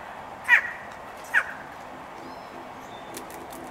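Two short, separate caws from crows fighting over peanuts ring out fairly close against a quiet outdoor background, followed by faint thin chirps.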